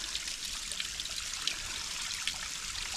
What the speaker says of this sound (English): See, you got this little waterfall.